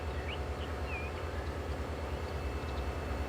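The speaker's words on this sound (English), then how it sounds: "So we might get a train on the left as well by the sounds of it." A train passes in Transport Fever 2 as a steady low rumble that holds at constant level, with a few faint higher squeals near the start and no talk.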